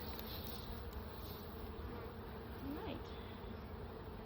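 Dense, steady buzzing of bees crowding a packed hive box during a spring inspection with drone brood present, a continuous close hum with no talk over it.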